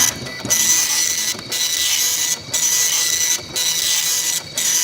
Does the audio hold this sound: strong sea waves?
no